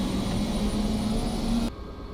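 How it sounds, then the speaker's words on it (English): Inside a helicopter in flight, a constant loud engine and rotor drone fills the cabin with a steady tonal hum, then drops abruptly to a quieter level near the end; no one speaks. "Right now, we are aboard the helicopter."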